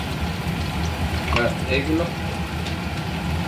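Spice masala with Kashmiri chili sizzles in a pan for Assamese chicken sesame, a steady low fry with occasional stirring scrapes while someone talks over it.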